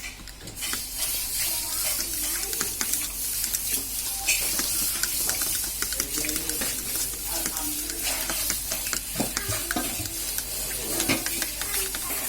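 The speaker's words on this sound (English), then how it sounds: "we're gonna mix this egg first" An egg being whisked for an omelette with noodles, brisk continuous stirring and tapping in a bowl, close and fairly loud, with scattered clicks and no talking.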